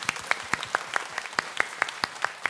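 An audience at a talk concert claps in a modest, sparse round of applause, individual hand claps distinct and evenly spaced, moderately close and without voices.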